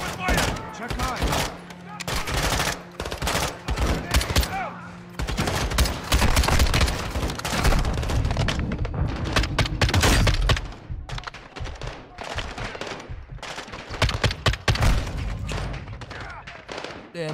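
Dense bursts of rifle and machine-gun fire in the Call of Duty Modern Warfare II campaign, loud and continuous with heavy thuds and repeated volleys, mixed with shouted game dialogue.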